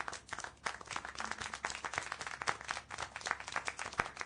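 Scattered hand clapping from an audience in an animated scene, quick uneven claps, fairly faint, running steadily without voices.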